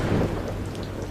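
Steady rain pours throughout a thunderstorm while a low, rolling rumble of thunder rises near the start and fades, with the downpour loud and continuous and no voices.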